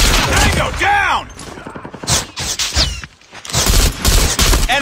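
Rapid gunfire bursts and weapon sounds from the Call of Duty video game, loud and close, with whooshing effects and shouted voices mixed in during a brief lull.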